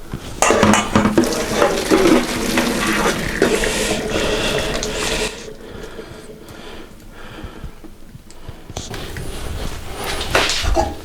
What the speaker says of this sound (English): we're going to return them back to the pan, put on the flame low and give them a shake